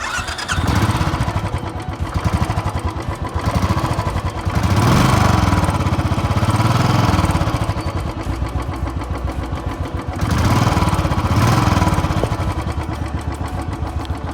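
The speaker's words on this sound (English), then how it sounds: "Can you guys hear the ticking noise? That is from the tappets." A Royal Enfield Signals 350 motorcycle engine idles close by with a rapid, steady mechanical ticking from the tappets, its rumble swelling and easing in slow waves.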